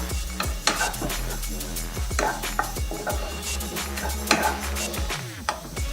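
Onions sautéing in a pan on low flame for a cashew nut dish, a continuous close sizzle under frequent scraping and clinking of a spatula against the metal pan, with a low steady hum beneath and no talk.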